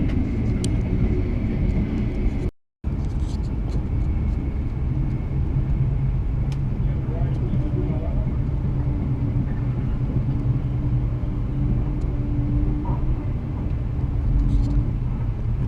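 An empty coal train passes near Ipswich, heard from aboard a train as a steady, close, low rumble, broken by one brief dropout.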